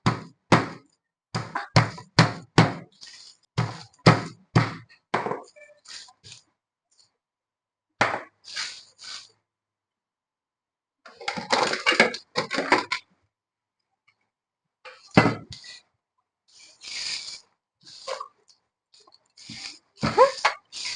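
Garlic cloves being crushed in quick runs of hard knocks and cracks, close up, with pauses between the bursts.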